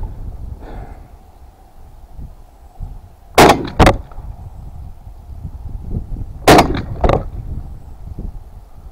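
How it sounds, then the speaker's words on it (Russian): MR-155 shotgun test at 50 metres, two pairs of loud sharp shots outdoors, each pair fired in quick succession with a few seconds between pairs. "Так, смотри, стрелять буду."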